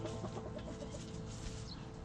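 Hens in a crowded chicken coop, with a newly added rooster among them, cluck in a steady run of close, overlapping calls over a constant farmyard murmur.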